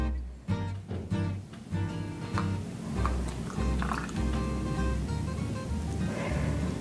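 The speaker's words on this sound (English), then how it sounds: "So now that you have your 20 milliliters of water, you're going to pour that into your cup labeled H2O." Twenty milliliters of water poured into a cup in a classroom chemistry exercise, a steady liquid trickle with small drips and splashes running continuously for several seconds, close and fairly quiet.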